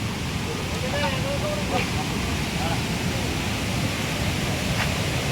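River water at Athirappilly rushes in a steady, dense roar that fills the whole stretch without pause, with faint voices of people nearby drifting underneath.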